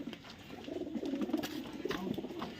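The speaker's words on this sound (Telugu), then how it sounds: "అన్ని రకాల పావురాలు ఉన్నాయండి" Pigeons of several kinds at a kennel coo softly and repeatedly at close range, a low rolling murmur of overlapping calls with no talking.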